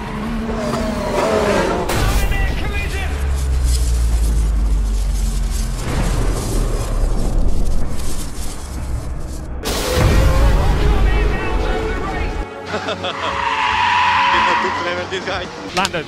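Formula 1 race cars at speed in a 2021 race, with loud engine roars, shifts and passes broken by abrupt cuts between scenes, and talk heard at times.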